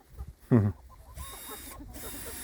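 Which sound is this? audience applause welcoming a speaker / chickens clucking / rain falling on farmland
chickens clucking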